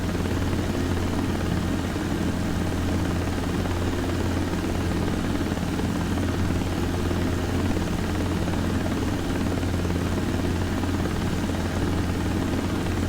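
Steady, loud rotor and engine drone of an R22 helicopter in a desktop flight simulator game, a constant low throbbing hum with no talk over it.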